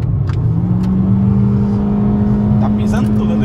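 A turbo diesel Mitsubishi Pajero accelerates hard and passes close by, its engine note rising in a steady loud drone that holds strong throughout, with a voice talking over it.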